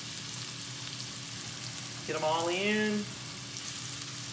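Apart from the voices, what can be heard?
onions sizzling in hot pan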